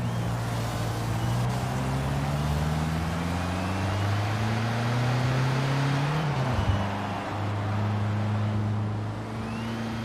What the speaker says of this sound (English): there is a video that they did record the sound from the Lancia Stratos